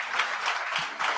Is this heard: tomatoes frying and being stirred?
no